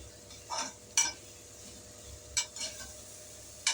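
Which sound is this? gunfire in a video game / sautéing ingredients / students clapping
sautéing ingredients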